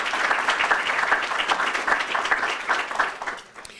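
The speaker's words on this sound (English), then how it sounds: "Please give them a round of applause." Audience applause at a community announcement event, a dense wash of many hands clapping steadily at close-to-moderate range, fading out near the end with no talk over it.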